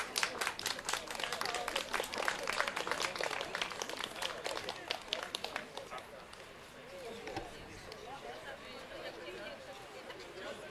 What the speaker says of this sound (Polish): Prosimy o bardzo, bardzo gorące brawa.